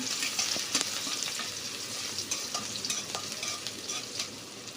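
Onions sizzle and crackle steadily in a hot oil-filled kadai, with occasional stirring scrapes, close up and without talk.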